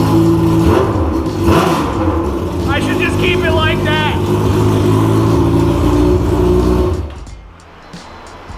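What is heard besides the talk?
Honda CBR1000RR motorcycle revving with straight-piped exhaust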